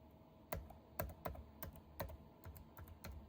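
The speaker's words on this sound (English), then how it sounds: "now we start to check if we can type, use the keyboards." Typing on a computer keyboard under Windows 11, a series of close, distinct key clicks in an uneven rhythm, about a dozen strokes with brief pauses, alone in a quiet room.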